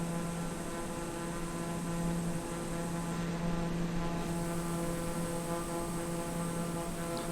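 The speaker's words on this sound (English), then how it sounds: "in a turboprop, it's a turbine jet engine that instead of the thrust out the rear pushing things forward, it turns the shaft on the propeller" Turboprop airplane in flight, with its turbine engine turning the propeller shaft: a steady, loud, droning engine roar with a constant low propeller hum, unbroken and close throughout.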